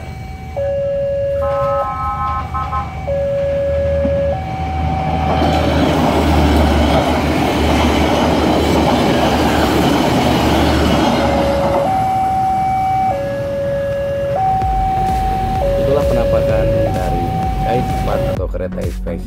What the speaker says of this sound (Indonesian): berikut cuplikan pada saat kereta KAI tersebut melewati PJL Sunda